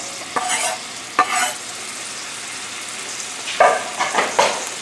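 Carrots and zucchini with chopped dill stirred in a pan, several separate scraping strokes of a utensil against the pan in short bursts over a faint steady sizzle, with no speech.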